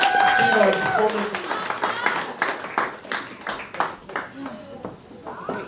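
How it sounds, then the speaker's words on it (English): Clapping at a 21st birthday celebration after a performance, a lively crowd applauding with cheers and voices mixed in, fairly close and fading gradually toward the end. "one more round of applause for the beautiful"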